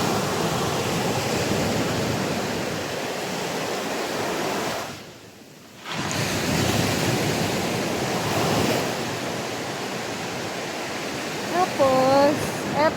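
Strong surf crashes and roars continuously at a Batangas beach in the Philippines, loud and close with wind noise, briefly dipping before surging again, while a voice speaks over it.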